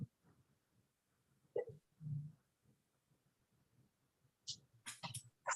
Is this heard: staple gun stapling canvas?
no